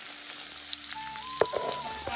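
Chopped onion sizzling in two ladles of hot oil with cumin seeds for a rural Maharashtrian wild-vegetable dish, a steady close fry with a brief clatter near the middle and no talking.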